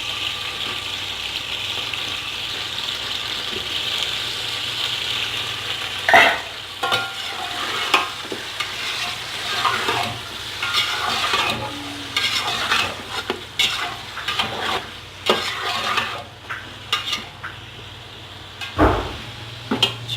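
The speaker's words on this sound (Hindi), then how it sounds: "अब हम इसमें चिकन शामिल करेंगे।" Chicken seasoned with salt and lemon fries in a pan with fried onions for an Afghani biryani, giving a continuous close sizzle broken by repeated spoon stirs and metallic scrapes against the pan, with no talking.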